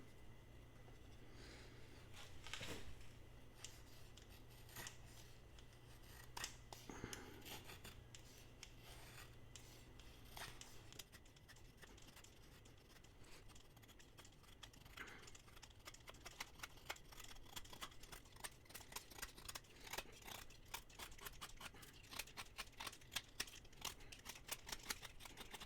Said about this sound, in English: we're going to test the ergos and how well the edge is still biting on this pine 2x4